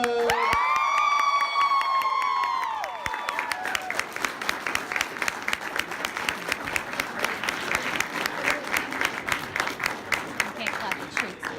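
A St. Louis convention audience at a Wizard World 2018 anime voice actors panel erupts in loud whoops and cheers for the guests, then settles into sustained, crackling applause with scattered shouts that carries on to the end.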